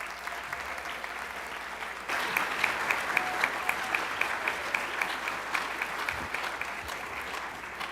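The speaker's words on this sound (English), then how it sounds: "Please give him a round of applause." A school board meeting audience applauds a Marine Corps veteran, lance corporal honored as veteran of the month; moderate clapping begins softly then swells abruptly after two seconds into sustained, even applause.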